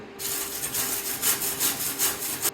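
An Everlast 253DPI MIG welder runs on aluminum with settings too cold, making harsh, rhythmic crackling and rasping bursts up close for about two and a half seconds, with no talking.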